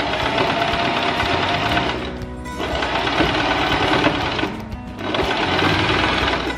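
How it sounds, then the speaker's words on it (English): A sewing machine runs a regular stitch over fabric in steady rapid bursts, loud and close, pausing briefly twice between long runs. "So I'm just going to take this to the sewing machine and do a regular stitch over here just to connect everything."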